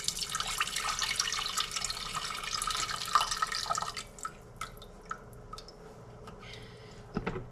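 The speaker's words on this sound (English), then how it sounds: "I'm gonna go drain the veggies." Cooked carrots and beans drain in a kitchen sink, water dripping and trickling steadily for several seconds, then thinning to scattered soft drips and a few wet squishes.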